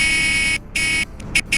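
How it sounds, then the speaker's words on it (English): A car horn in the Greenville video game blares in two long harsh electronic honks followed by three short quick taps, loud and close. "so the horn is a little bit obnoxious, but I can deal with it"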